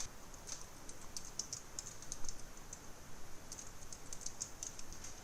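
Typing on a computer keyboard: quick, irregular clicks of keystrokes in short bursts with brief pauses, close and fairly quiet, no voices.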